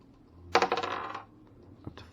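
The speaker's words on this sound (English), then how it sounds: "So we can re-roll either of those dice using power of the coin" Dice re-rolled in a tabletop game, a quick clattering tumble of several sharp hard rattles that fades within about half a second, followed by a single faint tap, close up with no talking.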